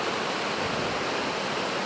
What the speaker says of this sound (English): I realize that I'm right next to the